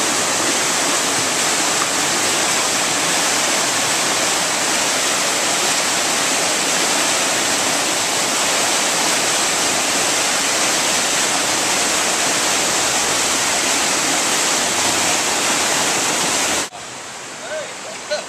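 Rock River rushing in heavy flood the morning after a hurricane, a dense, steady roar of fast water close by that stops abruptly near the end.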